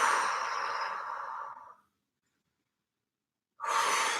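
Heavy breathing during an isometric slow-burn workout: two long, close, breathy exhalations separated by a moment of silence.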